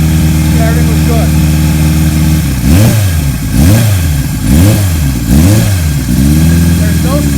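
A 1978 Kawasaki KZ1000 motorcycle engine running close by, steady idle broken by several repeated throttle blips that rise and fall in a rhythmic pattern before settling back to idle.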